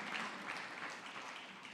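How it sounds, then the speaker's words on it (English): Applause fills a large banquet hall at a medical council health convention, a steady, dense wash of many hands clapping at moderate distance, fairly quiet and unbroken throughout. "Please put your hands together once again for the representative of His Excellency"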